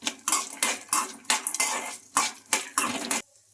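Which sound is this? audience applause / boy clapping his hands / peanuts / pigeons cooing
peanuts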